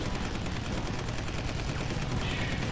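Machine gun fire in the flight combat video game Combat Wings: Battle of Britain, a loud, dense, continuous rattle of rapid shots over engine roar.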